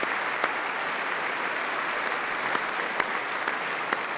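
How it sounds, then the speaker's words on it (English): Steady, dense applause from an audience fills the whole stretch, a continuous wash of clapping with a few louder individual claps. "You gotta clap at everything."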